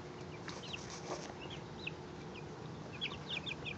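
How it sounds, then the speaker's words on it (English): Chickens cluck and chirp in short bursts over a steady background hum, with a few higher calls near the end. "They're chickens."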